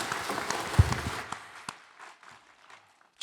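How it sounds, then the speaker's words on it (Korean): A congregation at a Christmas thanksgiving service claps in praise to God, a fairly soft wash of applause that thins out and fades after about a second, leaving near-quiet with a few scattered sounds. "박수로 하나님께 드리겠습니다."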